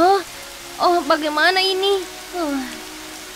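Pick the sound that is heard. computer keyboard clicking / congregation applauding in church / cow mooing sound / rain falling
rain falling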